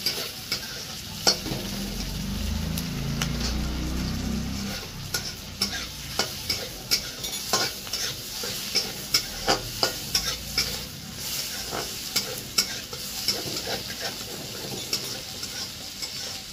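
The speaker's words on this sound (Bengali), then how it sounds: "একটু লাল লাল করে ভেজে নেব।" Fish fries in oil with a steady sizzle, while a utensil scrapes and taps the pan in irregular clicks throughout.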